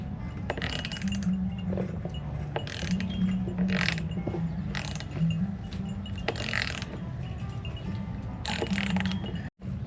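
A wrench tightening a nut on a mobile sheep enclosure, repeated ratcheting clicks in short bursts, close and steady over a constant low background drone.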